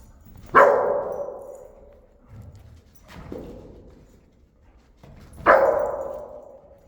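Three loud, sharp dog barks spaced a few seconds apart, close by, with faint rustling between them.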